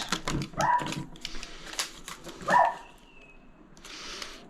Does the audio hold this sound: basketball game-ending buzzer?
no